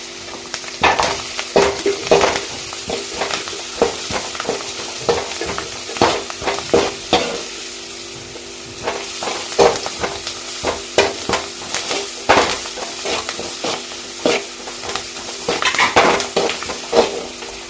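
Sliced onions sauté in a hot pan while cooking potato masala for chapati and puri, a steady close sizzle broken by frequent scraping stirs of a spatula against the metal, no voices.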